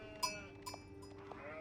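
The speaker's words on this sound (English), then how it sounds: "Okay, we have some sheep here." Faint sheep bleats from the video game Age of Empires IV, a couple of short bleats over a quiet, steady game ambience with soft clicks.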